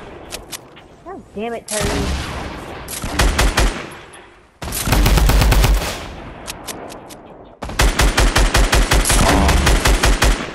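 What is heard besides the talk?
gunfire in a video game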